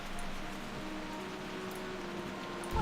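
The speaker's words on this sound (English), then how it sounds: "I think it's going to permanently rain in this zone now." Steady rain in a World of Warcraft zone, a constant soft hiss with no breaks. It holds at an even, moderate level for the whole stretch, without clear voices over it, and a brief louder thud comes at the very end.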